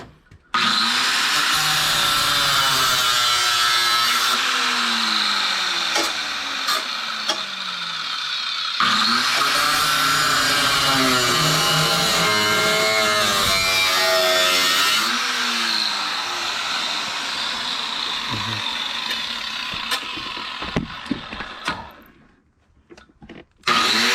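A power tool cuts through a car's sheet-metal body down to the flange while the car is stripped out, a loud, continuous grinding whine holding steady for about twenty seconds before cutting off near the end.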